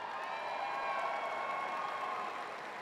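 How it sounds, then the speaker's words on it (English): Applause and crowd noise rise at a spring university commencement as advertising graduates approach the stage, a steady, fairly distant wash of clapping from a large audience, with scattered cheers mixed in. "Take the time to applause now"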